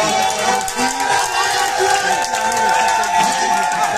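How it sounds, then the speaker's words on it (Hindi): A packed crowd at a Congress party rally in Bhiwandi claps and cheers in a dense, continuous roar, with a voice speaking over the noise throughout. "तालियां बजा करके मामा का एक बार"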